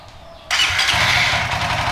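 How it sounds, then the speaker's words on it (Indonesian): A motorcycle engine started on a cold morning: quiet at first, then a sudden whirring crank half a second in that catches straight into a steady, close idle running to the end. "kita coba nyalakan apakah starter dengan mudah"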